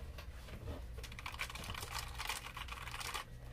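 Keys clatter steadily on a Logitech MX Mechanical keyboard with tactile switches, a fast run of close, fairly soft clicks and thuds filling the whole stretch with no voices.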